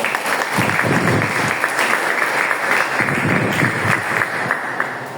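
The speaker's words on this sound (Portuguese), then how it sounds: "Aplauda o Senhor, querido. Glória a Deus." A church congregation claps steadily, dense sustained applause filling the room at an even level, with faint voices mixed in.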